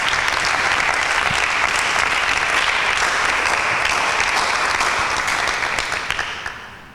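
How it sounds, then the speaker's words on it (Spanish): Loud, steady audience applause during a Bible quiz game rewards a correct answer, continuing evenly for several seconds before tapering off at the end. "Eliseo, fuertes aplausos"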